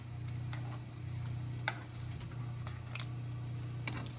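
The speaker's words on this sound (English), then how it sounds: "It just says add half the can of pie filling. So that's what I'm doing. I'm just going to stir those in." Apple pie filling being stirred into a pot of baked beans, soft irregular spoon scrapes and taps against the pot over a steady low hum, fairly quiet, with no talking.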